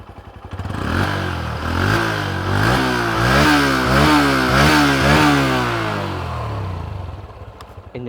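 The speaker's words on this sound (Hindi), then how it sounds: "आइए एक एक करके बाइक स्टार्ट कर लेते हैं और इंजन साउंड एग्जॉस्ट नोट सुन लेते हैं" A small 125cc motorcycle engine, such as a Honda Hornet 125 or Hero Xtreme 125R, starts up close, then revs again and again in rising and falling bursts before settling to a steady idle.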